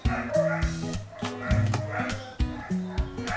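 Dogs bark in the background of a home kitchen where chicken curry is being cooked. The barking comes in repeated bursts and lulls, mixed with a voice and kitchen noise.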